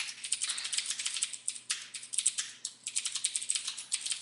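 Fast, steady typing on a computer keyboard while coding, with clustered bursts of close, crisp key clicks, a couple of brief pauses and no talking.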